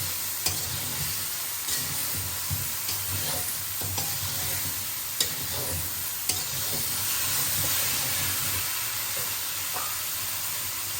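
Spice paste for a prawn and cauliflower curry fries in a pan over low heat, a steady close sizzle broken by scraping stirs and clicks of the spoon against the pan, with no talk.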